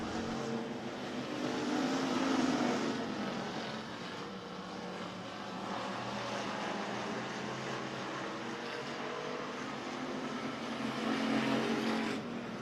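Race cars roaring around RPM Speedway during a KR Cup feature, a continuous loud, broad engine drone that swells and fades slightly as cars pass, heard from a distance with no talk.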